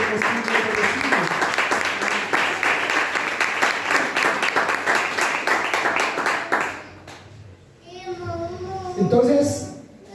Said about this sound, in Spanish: ¿Cuántos le damos un fuerte aplauso a Él que vive y reina por los siglos de los siglos?